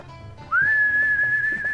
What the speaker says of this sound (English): Whistling is in silence. It's part of the music.